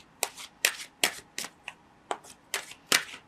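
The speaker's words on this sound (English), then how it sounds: "Let's draw 3 more cards in regards to the choices ahead of you." Tarot cards being shuffled and drawn, crisp riffling bursts repeating about eight times in a steady rhythm, close and clear with no talk.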